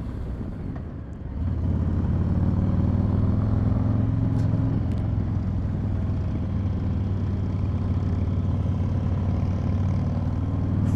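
A 2020 Harley-Davidson Street Glide motorcycle engine while riding, a steady loud low rumble that swells after a soft first second and holds constant, close and alone without talk.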